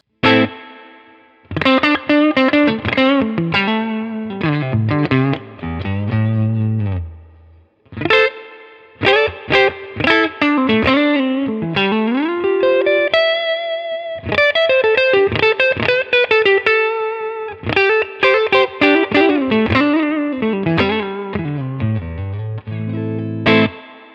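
Electric guitar through a Fender-style '63 spring reverb with dwell at 4, lush and splashy, chords and melodic runs ringing out with long drippy tails, loud and close with brief pauses.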